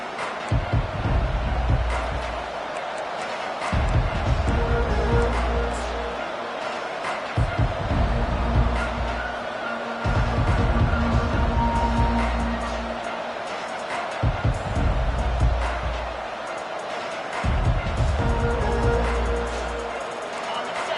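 Stadium crowd roars through a college football game with the Ducks on the field, a loud sustained wash of cheering that surges in waves, with announcers talking over it.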